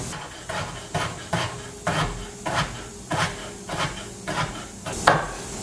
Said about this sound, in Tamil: இந்த தக்காளி பழத்தையும் நல்ல மெல்லிசா வட்டி எடுப்போம்.